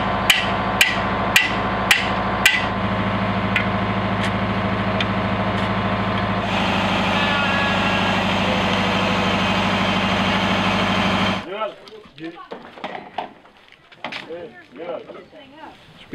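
Well-drilling rig in Haiti pulling 300 feet of drill pipe from a dry hole, its heavy engine droning steadily for eleven seconds beneath several sharp metallic clanks early on, then stopping as a voice speaks.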